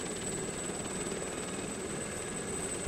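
Helicopter flying in the Chernobyl VR Project video game, approaching an amusement park landing area: a continuous, faint rotor and engine drone with a steady whine, unchanging throughout.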